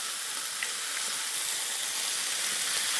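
Bacon sizzles steadily in a pan, giving a loud, continuous crackling hiss of frying fat that goes on without pause and with no voices.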